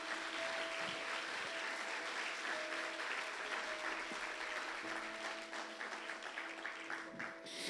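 Church congregation applauds during a Portuguese-language worship service, a steady wash of clapping at moderate distance that thins slightly toward the end, with faint tonal sounds beneath.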